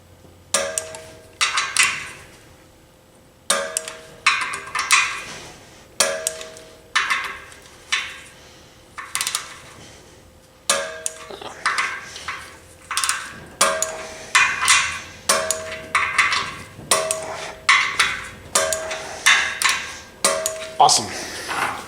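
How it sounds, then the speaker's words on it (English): Clicks from a torque wrench tightening bolts to 25 foot-pounds on a 4R100 transmission come as repeated sharp metallic ratchet bursts, close and loud, in short groups with pauses between them. "get your torque wrench and torque them to"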